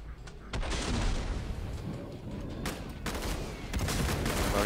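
Dense, continuous machine gun fire in Killing Floor 2, loud and sustained with rapid overlapping bursts and booming impacts throughout.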